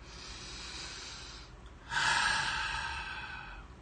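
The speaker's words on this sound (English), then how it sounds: "Take a deep breath." A deep breath: a soft, airy inhale held for about a second and a half, a short pause, then a stronger, breathy exhale that fades out, close and fairly quiet.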